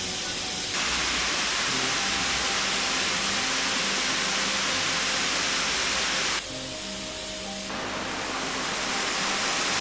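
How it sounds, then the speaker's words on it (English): Station Cove Falls waterfall at Oconee Station, South Carolina, a loud steady broadband rush of falling water heard up close, continuous throughout with a brief dip in intensity partway. "So waterfall number 3 for today is Oconee Station in Station Cove Falls."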